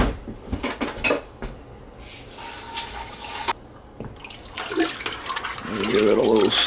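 Metal spoon clanking and scraping around a pot of beef stew with rice pilaf, irregular stirring knocks close by, with running water and talk mixed in.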